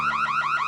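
A looping electronic alarm wails in LEGO Marvel Superheroes 2, a rising, pulsing siren tone repeating about every quarter second, loud and steady with no voices over it.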